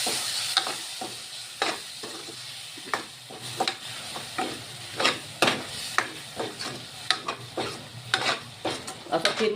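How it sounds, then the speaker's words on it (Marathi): Masala cooking in yogurt in a pan while a spoon stirs it, with repeated scraping strokes at an uneven rhythm over a steady low sizzle, up close with no voices. "आता हे दह्यामध्ये हा मसाला आणखीन थोडा वेळ शिजू द्यायचा आहे आपल्याला"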